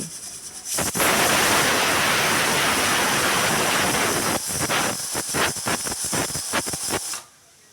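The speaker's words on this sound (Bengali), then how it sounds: "বিচিগুলো প্রেশার কুকারে একটা সিটি দিয়ে নেব" A pressure cooker with jackfruit seeds vents steam in a loud, continuous rushing hiss, close by. It breaks into sputtering bursts near the end before cutting off.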